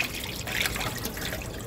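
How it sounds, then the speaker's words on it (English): Water draining from washed tapioca pieces through a kitchen filter, a continuous close trickling and splashing that holds steady for under two seconds, with no talking. "I'll take the filter and drain it."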